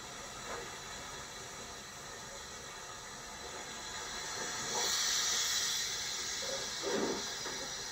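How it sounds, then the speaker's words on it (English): Steam hisses from the Jacobite steam train, a faint, soft wash of noise that swells in the middle of the clip, with a few small clanks and knocks around it and no speech. "Hogwarts Express is actually the Jacobite steam train"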